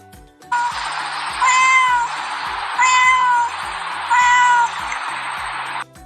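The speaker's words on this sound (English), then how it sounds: "Cat." Farm cat meowing three times in long, drawn-out calls with even pauses between, close and clear over a steady hiss of background noise.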